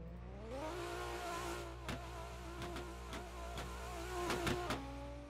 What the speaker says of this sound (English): Not the Civic burnout, the Honda burnout.